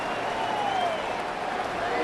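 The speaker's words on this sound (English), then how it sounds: "The Buffalo crowd being heard before 3rd down." Buffalo Bills home crowd in a simulated Saints at Bills football video game, a dense, loud, continuous roar of cheering before a third-down play, sustained throughout.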